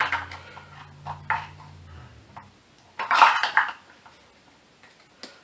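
Cheap plastic measuring cups are handled in a kitchen, giving a few close, light clacks and knocks, with a denser cluster of rattling about midway.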